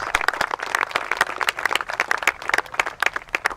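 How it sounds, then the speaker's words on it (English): Applause for veterans and active-duty service members at a 2017 veterans event: a steady patter of many hands clapping, moderately loud and sustained throughout, with no talk over it. "Let's have a round of applause for all our veterans and members of the active forces."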